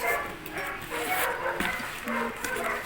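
A dog barks and yips repeatedly in short bursts at a moderate distance, sounding somewhat muffled amid background clatter.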